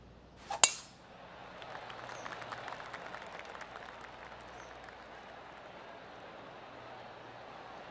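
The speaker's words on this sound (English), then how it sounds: "Oh, golf clap." Polite golf clap applause from a gallery in the video game PGA Tour 2K23, starting right after a sharp club strike and continuing as a soft, scattered pattering of hands that fades out slowly.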